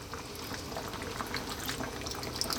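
Water pours steadily into a pot of Greek lamb stew with eggplant, a continuous gurgling splash and small bubbling pops, moderately close and without any speech.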